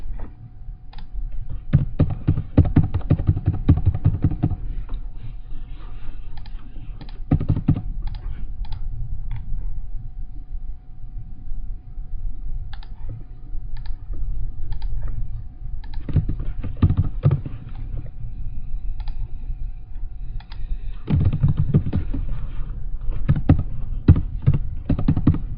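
A zip code is typed on a computer keyboard while a fillable form is completed, with bursts of close key taps and clicks separated by quieter stretches under a low steady hum.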